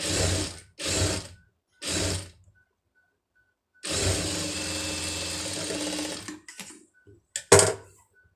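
Domestic sewing machine stitching a puff sleeve, running in three short bursts, then a longer steady run of about two seconds, followed by a few brief clicks and a sharp tap, loud and close with no talking.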